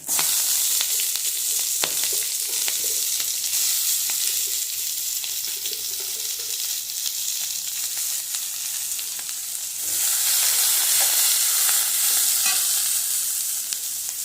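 Steady crackling sizzle of onions frying in hot oil, continuous and close, with occasional stirring scrapes and a brief louder burst near the end.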